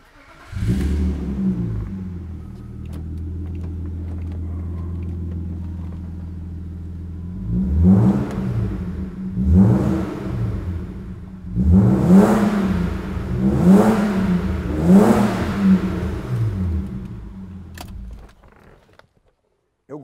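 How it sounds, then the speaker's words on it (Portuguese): A 1995 BMW 325i E36 inline-six idles steadily through a custom stainless steel exhaust, then revs up several times in quick, rising bursts before settling and cutting off, loud and close. "fizemos um escapamento de aço inox e olha o ronco que bacana que ficou"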